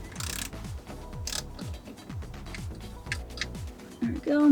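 Socket wrench ratcheting on the 8 mm bolts holding the blade of a Maxxair van roof fan, a steady run of close, rhythmic clicks with a sharper metallic scrape at the end.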